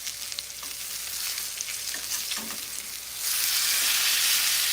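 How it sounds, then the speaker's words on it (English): A panko-crusted rack of lamb sears in a hot pan, giving a continuous close sizzle that swells into a louder, denser hiss for the last second and a half, with no talking. "So I'm going to just sear the bottom of it."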